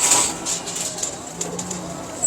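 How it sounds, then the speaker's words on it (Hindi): Champion racing pigeons in a Lahore loft give a soft, low cooing that rises midway, over a hissy background of faint chirps and distant voices. "शानदार कबूतर माशाल्लाह"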